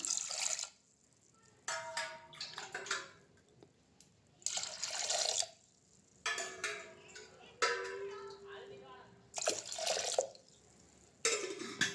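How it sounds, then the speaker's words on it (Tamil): Water pours and splashes into a cooking pot in several short bursts with quiet gaps between, close and fairly soft. "தேவையான அளவு தண்ணி ஊற்றிக்கிறேன்."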